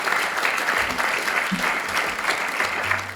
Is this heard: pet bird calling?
no